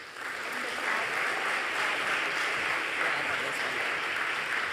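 An audience gives student scholars a round of applause at a university scholarships and awards day, a dense, sustained roar of clapping rising quickly and holding steady.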